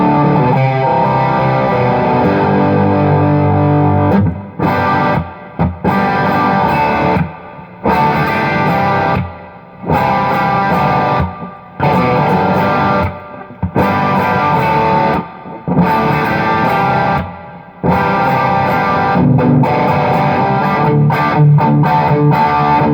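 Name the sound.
electric guitar through Peavey 6505 amp, bridge pickup, classic rock tone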